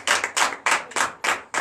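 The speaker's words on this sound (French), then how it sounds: "Donne l'acclamation à Jésus encore." A church congregation at a Sunday service claps in quick, steady rhythm, six sharp, close hand-clap bursts in under two seconds with no talk over them.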